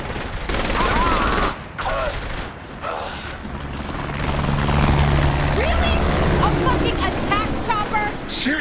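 Bursts of gunfire and a helicopter's drone fill a chaotic shootout in Saints Row The Third Remastered, with loud rattling volleys over a sustained rotor rumble and shouting voices in between.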